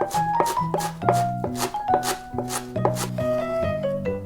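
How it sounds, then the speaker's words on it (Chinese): A knife chops purple ginger and scallions on a board in a quick, even series of crisp strikes close by, over steady background music. "再备些紫姜和香葱切碎"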